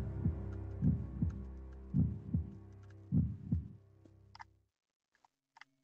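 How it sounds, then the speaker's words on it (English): A heartbeat sound effect from the video game Ib throbs in a slow, steady double-beat pattern with a low hum under it, then stops and leaves near silence with a few faint ticks. "Heartbeat."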